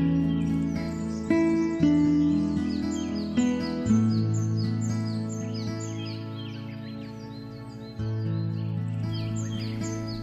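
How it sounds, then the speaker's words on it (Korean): Several birds sing and chirp at once in a summer forest after rain, with bright trills and repeated calls layered over one another, fairly close and clear. "비 그치니 온갖 새들 노래하고"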